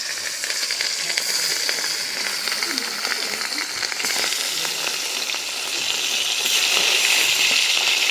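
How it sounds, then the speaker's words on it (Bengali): Hilsa fish fry in mustard oil in a wok, giving a loud, continuous close sizzle and hiss that grows slightly stronger toward the end, with brief stirring scrapes. "সরিষার তেল দিয়ে ইলিশ মাছ ভাজা ভালো লাগে"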